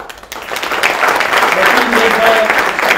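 Applause from the audience at a Chief Minister's public program in Maharashtra, a dense steady clapping that swells after a brief quiet start and holds loud across the room, with some voices mixed in.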